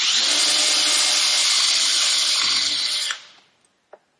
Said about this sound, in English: I like to pre-drill all my holes on this side when you're actually messing with this composite.